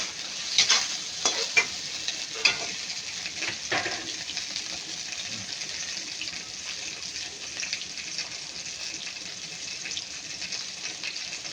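Aromatics sauté in a pan for monggo, a Filipino mung bean stew, giving a steady close sizzle. A few stirring scrapes and clinks come early, then the frying hiss carries on evenly.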